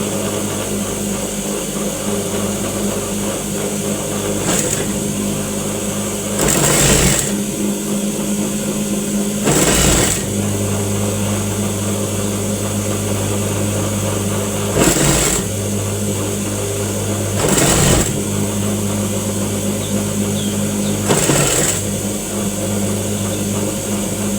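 A sewing machine stitches a hijab, its steady motor drone broken by several louder surges as the stitching speeds up and slows, close and alone.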